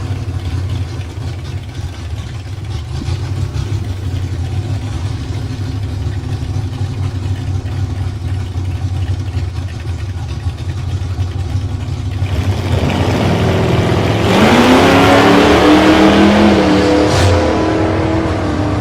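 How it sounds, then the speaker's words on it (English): An LX Torana drag car with a 355 stroker engine launches off the line at a drag strip, its loud engine roar building sharply after a steady rumble from the staging lane, with the engine note climbing as it accelerates away. "Good launch off the line for the Tirana there."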